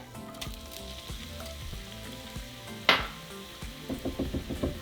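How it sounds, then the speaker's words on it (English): Onion frying in hot oil in a small frying pan gives a steady close sizzle, with one sharp crackling burst near the middle and a few soft rhythmic stirring knocks toward the end. "once our oil is hot, we're going to throw in our onion"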